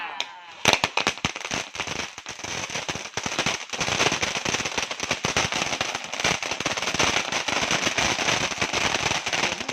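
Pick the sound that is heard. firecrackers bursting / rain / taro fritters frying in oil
firecrackers bursting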